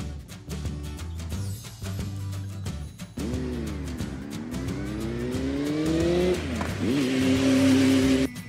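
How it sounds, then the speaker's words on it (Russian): A motorcycle engine revs up repeatedly, its pitch climbing in drawn-out whining sweeps over a rough rumbling idle, growing louder and closer toward the end with no voices. "Мотоцикл."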